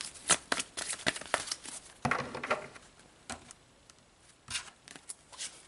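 Tarot cards are shuffled and dealt out in a quick, close, papery patter of riffles and slaps, with a longer shuffle burst in the middle and no talk.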